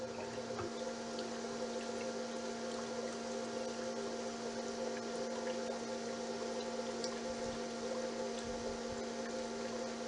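An airlift pump bubbles water inside a fiberglass model with a clear acrylic draft tube, giving a steady turbulent gurgle and hum that continues evenly and close.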